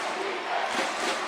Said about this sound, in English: And here's the Cashmere crowd getting into it.